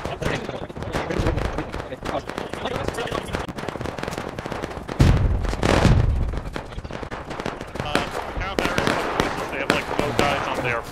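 Dense crackling rifle volleys and booming artillery fire from a Civil War line battle video game roll on continuously, with a heavy close blast midway, while players talk over radio comms throughout.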